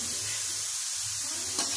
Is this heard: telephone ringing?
no